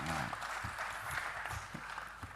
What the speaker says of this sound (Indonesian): Tepuk tangan untuk Pak Polisi